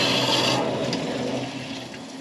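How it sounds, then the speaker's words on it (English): Steady rushing water flows continuously through household plumbing pipes, a broad hiss and gurgle that eases slightly in loudness toward the end, with no talking. "Sounds like there's water going somewhere."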